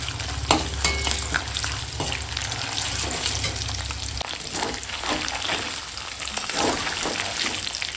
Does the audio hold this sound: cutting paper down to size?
no